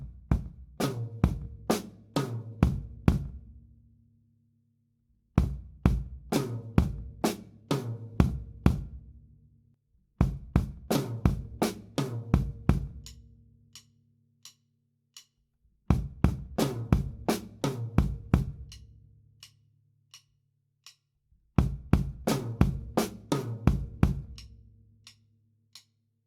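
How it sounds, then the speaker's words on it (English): A linear drum groove played on the top tom as a practice block, repeated five times with short pauses between them. Each pass is a quick, close, punchy run of tom hits mixed with sharp cymbal or hi-hat strokes. "the top tom block would look like this."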